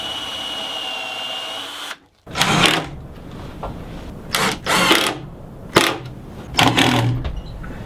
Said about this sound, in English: I'll drill and countersink